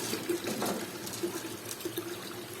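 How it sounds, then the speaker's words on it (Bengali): During a goldfish tank water change, water pours steadily into a container with a soft, continuous splashing trickle, faint and close by. "এখানে জলটা ভর্তি হয়ে যাচ্ছে এটাতে"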